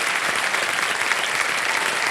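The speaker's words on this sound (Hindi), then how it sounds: "ताली बज जाए इनके लिए।" A studio audience on the KBC game show claps steadily, dense sustained applause filling the room at full volume throughout, with no talk over it.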